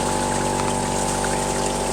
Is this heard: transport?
no